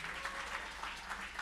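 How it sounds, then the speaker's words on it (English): An audience at a NY Tech Meetup in Civic Hall, at a Startup World Cup event, applauds its panel of judges: a steady, fairly soft wash of clapping with no clear break across the brief moment. "Can we give one round of applause for our judges here?"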